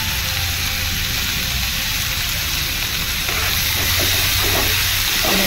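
Bitter gourd bhaji (karela) sautéed in a pan with salt, giving a steady close sizzle and frying hiss with soft stirring scrapes throughout, growing slightly louder toward the end.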